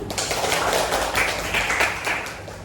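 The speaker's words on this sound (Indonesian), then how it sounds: "Pinter anak-anak itu tepuk tangan dulu" Students in a vocational high school accounting class clap their hands together, a fairly close, busy patter of overlapping claps with a few sharper accents throughout.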